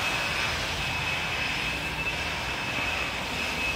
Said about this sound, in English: Yeah, I knew I needed the air compressor to get this done.